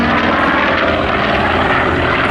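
A Douglas Skyraider propeller warplane flying at the Air Legend Airshow 2024, its big piston engine giving a loud, steady, throaty drone close by, alone without talk for the whole stretch.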